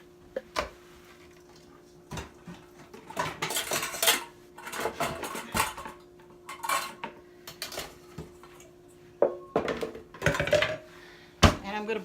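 Mixing bowls from a nested large, medium and small set clatter and clink as they are handled, with intermittent close knocks and scrapes spread across the stretch and quiet gaps between them.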